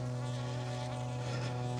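Bees buzzing at a backyard beehive, a dense steady drone with a strong low hum that fills the short recording without a break.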